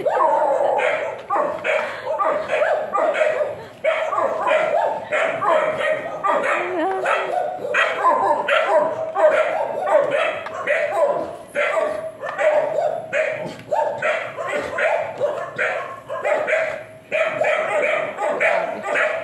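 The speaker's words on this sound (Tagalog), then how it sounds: "Ang daming aso" Many dogs barking together in a rapid, continuous chorus of overlapping barks and yips, fairly close and loud, with occasional whimpers mixed in.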